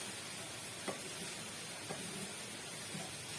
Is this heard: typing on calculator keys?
no